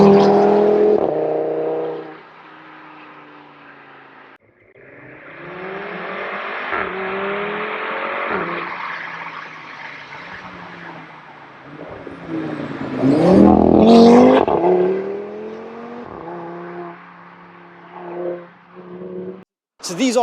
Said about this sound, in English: So you'll hear this RS3 now. Blasting down here.